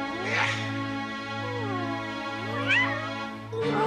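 A cartoon cat lets out drawn-out, wavering meows, one at the start and another near the end, over a steady low humming tone.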